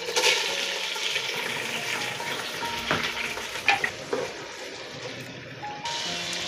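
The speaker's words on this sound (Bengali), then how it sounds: "এখন আমি চিংড়ি মাছটা তেলে ভেজে নিব।" Shrimp sizzle in hot oil in a pan, with a bright crackling hiss broken by stirring scrapes and clatter, the frying settling toward the end.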